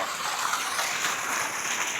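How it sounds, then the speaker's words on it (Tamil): Water flowing steadily in through a pipe beside a farm trail near a hidden waterfall, a continuous close hissing rush with no breaks and no voices. "இங்கே பாரு மாமா, செமலை தண்ணி வருது."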